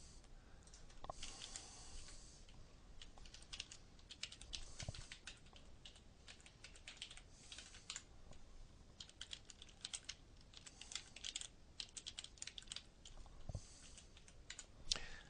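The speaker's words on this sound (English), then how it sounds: "Type in our password" Someone types a password on a computer keyboard, a quiet close series of irregular key clicks and taps continuing throughout with small pauses.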